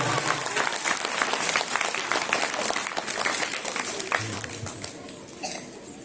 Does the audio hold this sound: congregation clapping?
yes